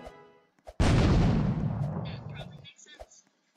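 A cannon firing in a circus level of a video game, one loud booming blast that rumbles and decays over about two seconds, framed by short clicks and brief voices.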